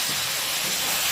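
Water poured into spice paste frying for a Bengali red chicken curry gives a loud, steady steaming hiss and sizzle that fills the whole short stretch, close and alone.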